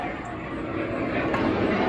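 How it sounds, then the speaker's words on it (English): A Learjet doing touch-and-go circuits at the end of the Niagara Falls Air Force Base and airport, a broad steady jet roar building slightly in loudness, heard from a nearby outdoor shooting range. "this Learjet has been doing touch and goes for the last hour"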